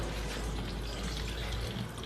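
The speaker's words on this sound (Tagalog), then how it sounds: "Ayun, mag-drain na siya. Lumabas na ang tubig." Water gushing steadily out of a washing machine during a drain repair, a continuous rushing flow that holds even for about two seconds with no voices.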